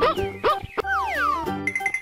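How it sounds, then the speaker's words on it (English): A cartoon dog barks in a children's animal painting game: a few short, bright yips and bow-wows mixed with chiming, playful music. "Dog."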